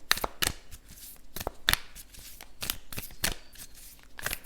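Moonology oracle cards being shuffled by hand make a close run of quick, crisp riffling bursts that repeat in an uneven rhythm, with no talk.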